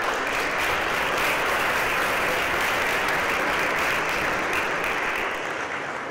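Steady, sustained applause from a large crowd at a college board candidates' debate, continuous clapping filling the whole stretch and tapering slightly at the very end.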